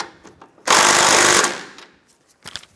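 Power tool driving bolts tight on a 2007-2013 Mini Cooper during an exhaust manifold replacement, a single loud, close buzzing rattle of impact that lasts under a second and then fades to faint clicks.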